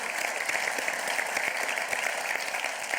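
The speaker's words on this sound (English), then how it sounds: "a round of applause for our commanders here" Audience applause for base commanders at the close of a State of the Base event at Tinker, a steady, even wash of many hands clapping, moderately loud and sustained with no voices.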